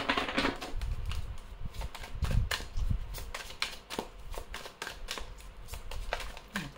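Oracle cards are shuffled up close in a quick run of soft, papery riffles and flicks, fairly faint and irregular, with no talking.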